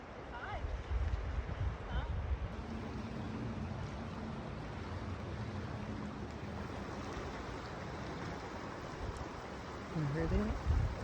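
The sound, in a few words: loud wind outdoors near waterfall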